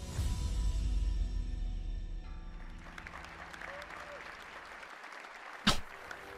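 A crowd applauds at the Ubisoft Showcase 2023 game presentation. Loud clapping fills the opening seconds, then thins and fades out, and a single sharp click or knock follows near the end.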